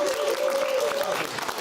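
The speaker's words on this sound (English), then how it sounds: "Let's have a round of applause." Studio audience applause on a television talk show, a short dense wash of clapping with a sustained tonal hum running through its first part.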